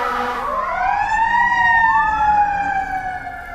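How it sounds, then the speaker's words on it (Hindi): A fire engine siren passes close by on a city street, its loud wailing tone sweeping up and holding, with overlapping siren layers and a rumbling truck underneath, no talking. "इन सब से फायर ब्रिगेड जा रही है"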